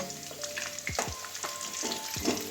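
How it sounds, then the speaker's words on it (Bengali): New potatoes frying in oil until reddish, a soft continuous sizzle broken by scraping stirs of a spatula, quiet and close, no talking. "আলুটা একটু লাল লাল করে ভেজে নেব"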